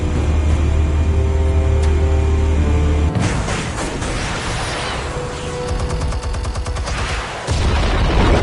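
Gunfire and explosions in the Telltale Batman video game: a low steady rumble gives way to dense crackling bursts and booming blasts that keep up for several seconds, loud and close, with a music-like drone underneath.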